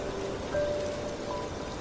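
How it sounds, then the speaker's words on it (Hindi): Heavy rain pours down on a cold night, a steady, dense hiss of drops that continues unbroken and fills the whole stretch with no voices over it. "कुछ ही देर में काफ़ी तेज़ बारिश होने लगी।"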